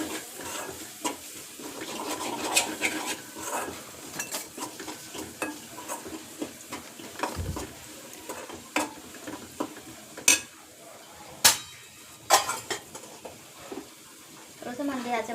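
Spices including turmeric, garam masala and coriander powder sizzle in a pan for misal while a spoon stirs them, giving a soft frying hiss with irregular scraping knocks and a few louder clinks of metal on the pan.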